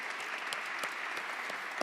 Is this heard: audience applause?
yes